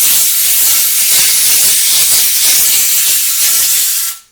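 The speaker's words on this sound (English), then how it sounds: "taking this piece of really thick grit sandpaper and just spinning everything around as I do it" Thick grit sandpaper is held against a spinning brake rotor on a 1972 Camaro barn find, giving a steady, loud, close hiss that lasts about four seconds before cutting off abruptly.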